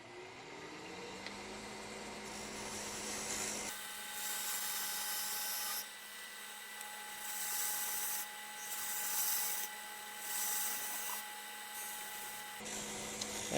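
A parting tool cuts a tenon on a spinning wood lathe, a faint scraping rasp that comes and goes in several short bursts over a steady motor hum.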